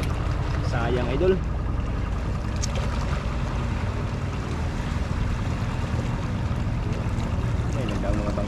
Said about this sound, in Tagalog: may nagdaan na naman bangka